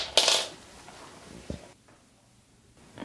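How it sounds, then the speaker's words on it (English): Keys clink down onto a doorstep under a mat: a sharp metallic jingle followed by a brief second clack, close and clear, then quiet. "I'm leaving the keys for you under the mat here"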